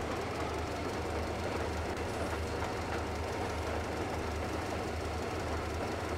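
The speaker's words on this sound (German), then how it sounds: "ich muss den Waggon jetzt da rausziehen" Railway wagon in the game Metro Exodus rolling along the track, a steady loud rumble with heavy low clatter and continuous rail noise, no voices.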